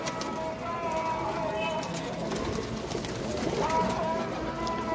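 Pigeons, including a Teddy pigeon, coo softly over a constant noisy background, their low murmuring calls repeating through the few seconds.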